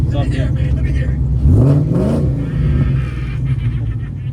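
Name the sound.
neighbor's Corvette engine revving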